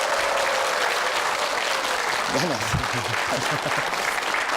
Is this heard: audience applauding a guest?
yes